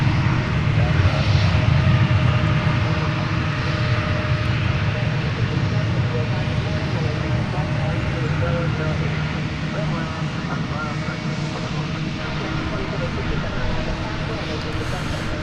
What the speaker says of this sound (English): Next to take off is Flight 2767 to Seattle. An Airbus A321 Neo.